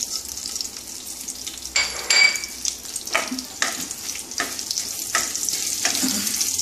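Bay leaves and green chillies sizzle in hot oil while spices are tempered, a steady close crackle with stirring scrapes and a few clinks of a utensil against the pan.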